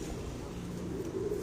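Domestic pigeons kept on a rooftop coo in a low, steady murmur through a continuous background, fairly close, with no clear speech over them.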